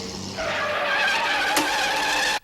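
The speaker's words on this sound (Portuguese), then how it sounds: "Então o ônibus deu uma freada." A bus brakes hard, its tires skidding in a loud, sustained screech that lasts about two seconds and cuts off abruptly, with no talking.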